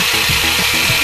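A high-pitched whirring dental drill in a video game runs continuously, its pitch wavering slightly in short pulses, loud and close.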